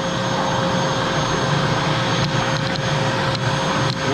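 An air blower roars steadily while forcing water out of a hot tub's jet lines during winterizing, a loud continuous whooshing drone with a few brief sputters near the end.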